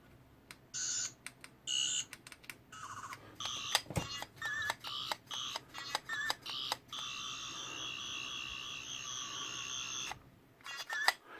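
Electronic Doctor Who toy sonic screwdriver sound effects: a burst of short chirps and warbling beeps, then a sustained high whirring tone for a couple of seconds, ending with a few more quick beeps.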